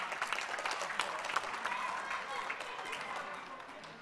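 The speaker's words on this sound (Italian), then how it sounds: "Applauso a Fabiana che ha battuto un gran rigore" Applause from a crowd after a penalty kick at an Italian football event, a steady broadband clatter of clapping lasting the whole span at moderate level, with voices mixed in.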